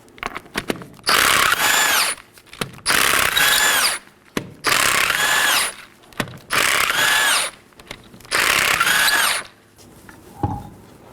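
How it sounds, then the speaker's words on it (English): An impact power tool removes five 19mm lug nuts from the left front wheel of a 2018-2024 Chevrolet Equinox in loud, close bursts of whirring and rattling, one burst per nut with short pauses between them. "Let's go and remove our left front wheel. There's 5 19mm lug nuts."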